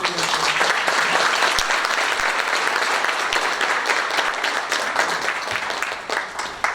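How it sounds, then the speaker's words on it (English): Sustained audience applause at a school district board meeting, honoring two students; a roomful of clapping hands holds steady and starts to thin out near the end. "So let's give a round of applause for our two students."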